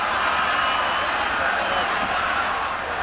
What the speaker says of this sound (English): Red and green crowd here at McMahon Stadium.